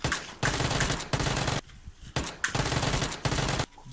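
Bursts of rapid automatic gunfire rattle loudly in several long volleys separated by short pauses, in a real-life PUBG-style game.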